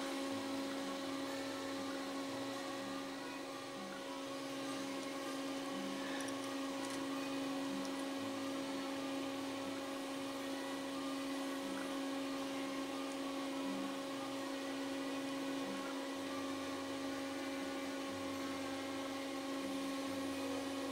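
Motor driven by a Hitachi HFC-VWG transistor inverter drive, running with a steady, even electrical whine and hum that continues unbroken throughout, with no talking.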